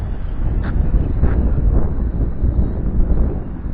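Strong wind blowing outdoors around a drone in flight, a loud continuous low rumble of gusts buffeting the microphone, with a couple of faint brief higher tones.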